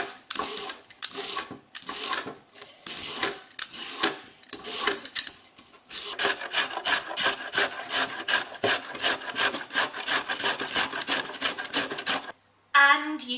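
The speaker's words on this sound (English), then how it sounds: "Now we'll peel and grate the carrots." Carrots are peeled and then grated by hand for carrot cake: rough rubbing strokes, sparse and uneven at first, then a fast, regular rasping rhythm that continues steadily before a brief pause.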